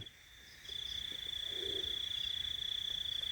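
Frogs and insects calling from a field in hot weather: a steady high chirring drone runs throughout, with a brief low croak in the middle, faint and without voices.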